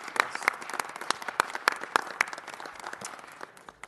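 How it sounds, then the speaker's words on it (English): An audience applauds in a city council chamber, with many hands clapping in a fairly quiet, scattered patter of sharp claps that slowly thins and fades over a few seconds. "Let's give our champions a round of applause."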